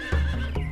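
A horse gives a short, close whinny, a brief shrill neigh standing alone.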